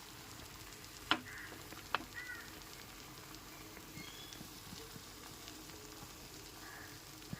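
Thin rice-flour batter for sorucakli pitha sizzles softly and steadily in a hot pan, with two sharp clinks early on and a faint, even hiss throughout.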